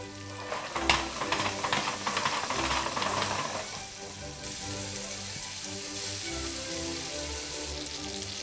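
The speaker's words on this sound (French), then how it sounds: "Je vais y ajouter mes bananes. Et là, on va laisser caraméliser gentiment." Bananas caramelizing in butter and sugar in a pan, giving a steady, fairly quiet sizzle and hiss with occasional stirring scrapes, busier at first and then settling into an even frying crackle.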